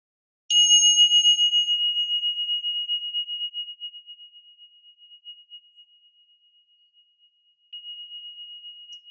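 A single meditation bell struck once during a sound healing session, its clear ringing tone decaying slowly over several seconds in near silence, followed by a faint second resonance near the end.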